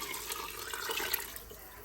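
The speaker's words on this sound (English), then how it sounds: "we're going to start with 4 cups of seafood or shrimp broth. I'm going to pour that in here." Seafood or shrimp broth, four cups, pours steadily into a cooking pot for Southern shrimp Creole, giving a continuous close liquid rush that holds for a couple of seconds with no talking.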